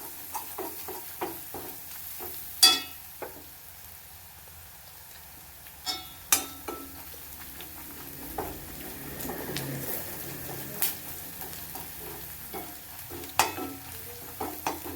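Spiced raw plantain and long beans being sautéed in a pan, with soft sizzling under repeated spoon scrapes and clinks against the pan, birds cooing faintly in the background.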